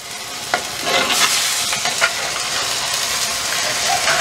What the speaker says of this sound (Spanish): Ya está cociendo nuestra carne.